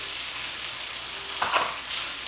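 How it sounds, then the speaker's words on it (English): Kung pao chicken fried rice with red bell pepper and peas frying over low heat, with a soft continuous sizzle and one brief scraping stir near the middle. "I'm just going to stir it around and put it on that heat"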